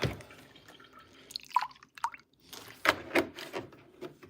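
Milk is poured for a child indoors in a quiet kitchen, giving soft, faint drips and splashing liquid sounds in short bursts with pauses between.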